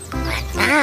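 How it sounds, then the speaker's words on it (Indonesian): A duck gives a single close, loud, nasal quack, with someone speaking briefly over it. "Wow, wow, lihat bebeknya."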